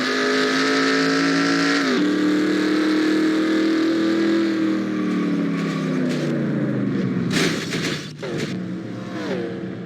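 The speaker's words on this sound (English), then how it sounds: "I think we'll get a view of a car flying by" Race car engine in the NASCAR Racing 2003 video game, a loud sustained roar with rising and falling pitch as cars pass, and a sharp burst of rushing noise near the end as one flies by.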